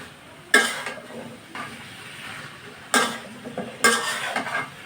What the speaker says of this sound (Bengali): এখন আমি কচুরলতিটা ভালো মতো মশলার সাথে মিশিয়ে দেব।